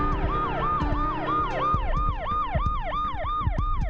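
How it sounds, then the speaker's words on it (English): An ambulance siren wails in a rapid, repeating up-and-down sweep as the vehicle pulls up at a hospital, loud and steady throughout with engine rumble underneath. "an ambulance arrives at Sunnybrook and Women's College Health Sciences Center"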